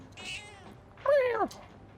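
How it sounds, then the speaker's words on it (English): A kitten mews weakly in Persona 3 Reload: a soft, faint mew, then a louder, wavering cry close by, with no voices over it. "It's mewing very weakly. Maybe it's hungry."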